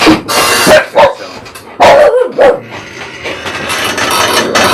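Several dogs barking in a quick burst of loud, close barks and yips, then pausing before another cluster of barks, with fainter whimpering and background noise trailing after.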